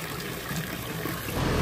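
Mountain spring water runs along a pilgrimage route toward Kedarnath, a close, steady gurgling trickle and splash that swells slightly near the end, with no talking.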